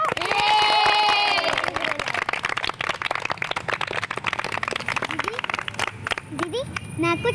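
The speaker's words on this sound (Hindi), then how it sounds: "अरे इतना अच्छा घर बना, तालियां तो बजाओ।" Steady applause of many hands rises in a home after a house has been built, dense close clapping running throughout while voices talk over it.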